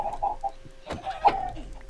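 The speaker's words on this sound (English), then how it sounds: "Like these chickens, for instance." Chickens in the video game Minecraft clucking in a few short, close bursts that leave brief gaps between them, with no talk over the sound.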